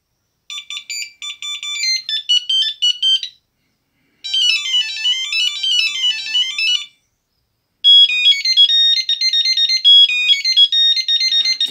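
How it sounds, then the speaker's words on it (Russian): A 2000-era Bosch 509 Dual mobile phone plays a bright, beeping monophonic ringtone melody in three loud phrases separated by short pauses, with no other sound. "Так, рингтоны. Давайте посмотрим."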